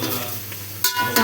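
Chopped tomatoes fry in hot oil and are stirred in a pan, with a steady close sizzle broken by two scraping stirs of the spoon.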